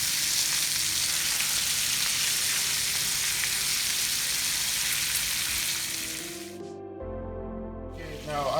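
Beef pieces searing in a pan for a classic beef stew, a loud continuous sizzle that fades near the end, broken by a brief clatter as the pieces are turned.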